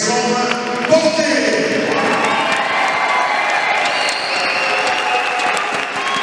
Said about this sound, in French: Un tonnerre d'applaudissements pour les vainqueurs de la 7e édition de la Cesta Jean-Louis Colorant et Jérôme